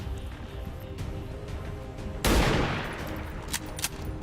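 A single loud gunshot fired in the XCOM 2 video game, a sharp broadband blast that decays over about a second, followed by a couple of fainter clicks and impacts amid quiet game ambience.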